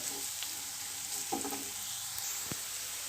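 Chopped onion, carrot and cabbage are stirred and fried in a pan, a quiet continuous sizzle broken by a few scraping and clacking strokes of a spoon, heard up close with no talking.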